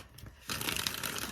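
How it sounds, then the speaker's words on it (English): A tarot card deck is shuffled close by, a quiet rustle swelling into a dense, continuous riffling of cards, with no talking. "I want to shuffle these up and get them ready for us."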